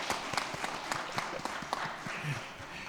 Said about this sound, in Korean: 우리 학생 찬양대 격려 박수